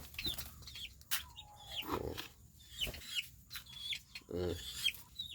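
Chickens cluck and chicks peep in short bursts close by, with a louder throaty cluck near the end.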